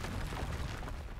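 A Confringo spell going off in Hogwarts Legacy, a dense, rumbling blast of fiery noise that fills the whole moment at steady loudness without a sharp single crack.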